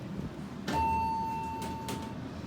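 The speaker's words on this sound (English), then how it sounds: "Let's ring the bell." A single bell chime rings on an Otis/Dover staff elevator in a hospital building, sounding clear and sustained before it fades against quiet room noise.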